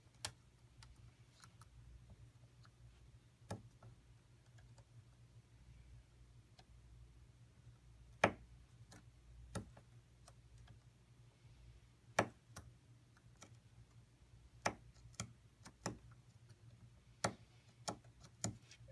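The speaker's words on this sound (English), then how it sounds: "When you write with your slate and stylus, or when you write with your stylus, you want to hold it up and down so it creates dots that are easy to feel" A braille slate and stylus punches dots one at a time, giving sharp, isolated clicks at irregular intervals over a quiet background, fairly close and clear.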